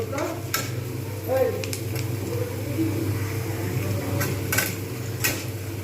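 Fried onions are lifted out of a pan with a few utensil scrapes and light clinks over a faint sizzle and a steady low hum, fairly quiet and close.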